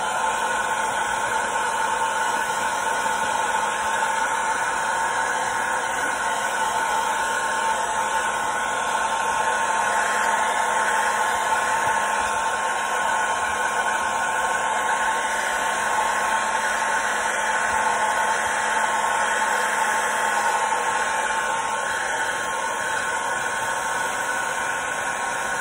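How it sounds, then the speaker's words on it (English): A heat gun blows a steady, loud, unbroken rush of hot air for the whole stretch, setting fingernail polish painted on a fishing crankbait. "let's go ahead and heat set this real quick"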